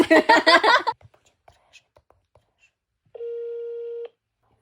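A telephone sounds after a brief spoken phrase: a few soft clicks of dialing, then a single steady electronic tone lasting about a second, clear and close in an otherwise quiet room.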